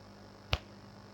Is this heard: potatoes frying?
no